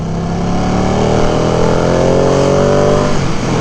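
A Ducati Panigale V2 L-twin motorcycle being ridden, its engine a loud, close, continuous drone whose pitch climbs steadily as it accelerates through the gear.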